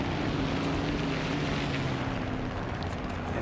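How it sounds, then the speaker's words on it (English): A steady, loud propeller-plane engine drone from War Thunder air arcade combat, a constant roar with a low hum that holds through the whole stretch without a break. "Hear another plane coming in"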